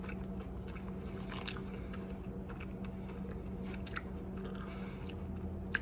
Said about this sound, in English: I'm going to try another bite of these nacho fries.